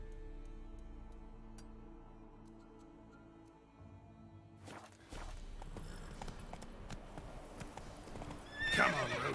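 Roach, Geralt's horse in The Witcher 3: Wild Hunt, starts moving partway through with hoof clip-clops over a sustained game music bed, building in loudness, with a brief whinny near the end.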